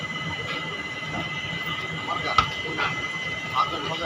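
The Puri Jagannath Express rolls into Belda station with a steady mechanical hum, a few sharp metallic clanks and squeals, and faint voices in the background.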